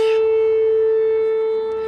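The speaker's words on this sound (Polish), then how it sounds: "To jest stara syrena już" An old Polish civil defense siren holds a loud, steady tone that slowly begins to fade, with a short noisy burst at the very start.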